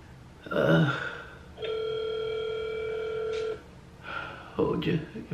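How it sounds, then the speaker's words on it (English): An old telephone is dialed, a steady tone sounding for about two seconds between bits of talk from nearby voices, fairly loud and close. "I could take forever to dial."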